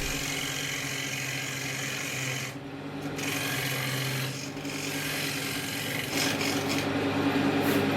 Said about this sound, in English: I'm working on the bottom of the bowl here, just putting in a bit of mortise to fit the chuck into.